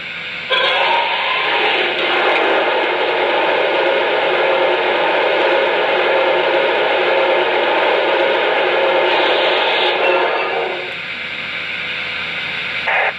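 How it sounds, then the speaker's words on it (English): A model train's sound effect of water filling the tender: water gushes in a sustained, loud rushing stream for about ten seconds, then drops off to a softer trickle before a brief final splash. "there's also a sound effect for water being added to the tender."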